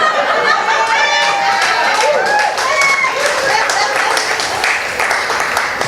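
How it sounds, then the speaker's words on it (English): A comedy club audience at a benefit stand-up show breaks into dense, sustained applause mixed with laughter and crowd chatter, loud and steady throughout. "Thank you for that thunderous round of applause."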